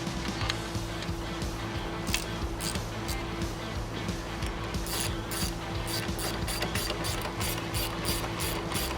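A torque wrench tightens brake rotor bolts on a Harley Lowrider ST motorcycle, making a long run of quick, close ratcheting clicks in steady bursts.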